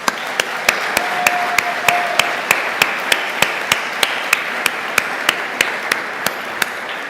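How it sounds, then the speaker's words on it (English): Applause at the CHRIStal Ball gala: steady crowd clapping runs throughout, with one crisp, regularly timed clap standing out close by. "Please give them a round of applause."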